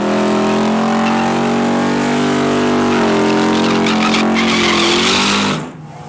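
A supercharged Mustang 5.0 screams through a street race, its loud engine climbing in pitch through a long sustained pull before dropping away abruptly.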